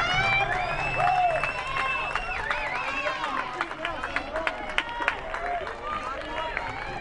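A crowd at a high school baseball quarterfinal rises and cheers on a strike, the noise swelling with scattered shouts and whistles, while a commentator keeps talking over it.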